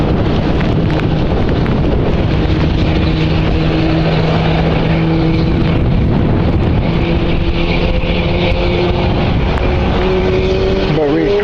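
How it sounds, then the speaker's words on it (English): A KLM propeller airliner's engine spooling up at Edinburgh Airport, heard as a loud steady drone with rising tonal whine throughout, wind buffeting the microphone and a voice talking over it. "That's starting up the engine."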